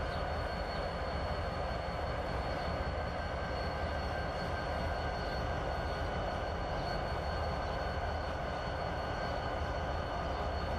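Steady low rumble of rail equipment with a faint high squeal and drone, a switcher locomotive idling and moving at a distance in the SP Cotton Belt freight yard, Fort Worth, without any talk.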